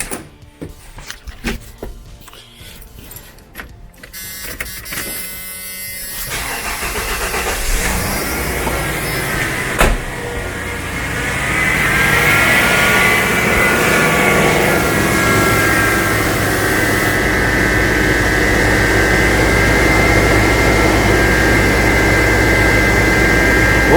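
A 1995 Ford F150 engine turns over with choppy cranking, catches, and settles into a loud, steady idle drone that continues to the end.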